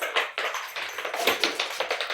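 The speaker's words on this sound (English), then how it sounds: "That is my cat chasing a plastic ball around the room." A cat chases a plastic ball around a room, making quick, irregular light taps and clatters as the ball is batted and bounces nearby, with no voices.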